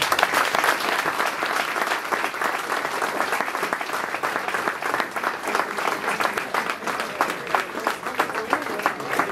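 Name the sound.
applause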